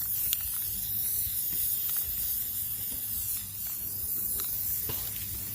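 Clear coat sprayed from an aerosol can onto a custom keyboard, a continuous close hissing spray with faint clicks and small interruptions throughout.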